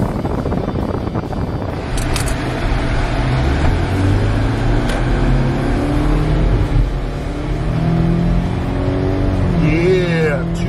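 Steady engine drone and road noise inside a 2020 Subaru Forester Limited with a 2.5-liter engine, accelerating smoothly along the road with constant wind rush throughout.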